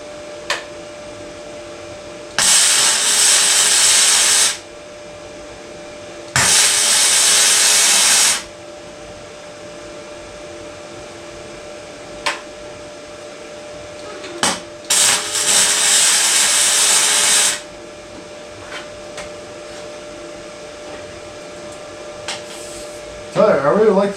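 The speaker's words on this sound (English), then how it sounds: "I really like this little welder." A small flux-core wire welder lays down welds for a race lawnmower build, producing three loud crackling bursts of a few seconds each, separated by quieter shop background with occasional clicks.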